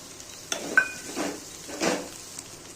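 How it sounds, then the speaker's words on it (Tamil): Grated coconut fries in oil in a pan, giving soft sizzling with a few scraping stirs and light utensil taps against the cookware, quiet and close. "தேங்காய் திருவி வச்சதை எடுத்து போட்டுட்டு நல்லா ஃப்ரை பண்ணணும் தேங்காய் கொஞ்சம் நல்லா ப்ரௌனிஷாக ஆகணும்"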